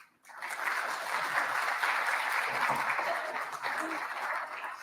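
Audience applause welcoming a speaker to the stage at a talent and leadership forum, a steady wash of clapping that rises quickly and holds at an even level for several seconds.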